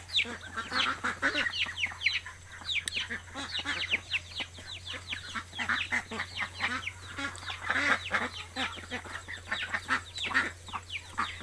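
Ducks and chickens let loose to feed on sawtooth coriander, with continuous overlapping clucks, quacks and squawks from a close flock, busy and steady throughout with no talking.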